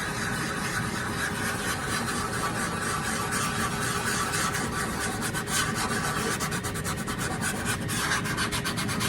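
Someone sands filler on the repaired side break of a Takamine acoustic guitar, a steady rasping scrub that carries on throughout without speech.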